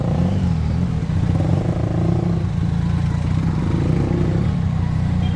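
A Honda CBR 150 motorcycle engine drones close and loud with a steady, slightly rising tone, running continuously with no break.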